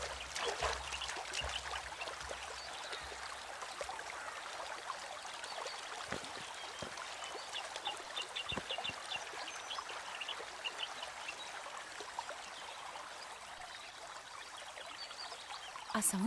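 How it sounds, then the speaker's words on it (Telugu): Water flows from a waterfall somewhere in a forest near an old temple, a soft continuous trickling rush heard at a distance, with an occasional faint bird call. "ఆ సౌండ్స్ విన్నావా? దగ్గరలో వాటర్ ఫాల్స్ ఉన్నాయేమో."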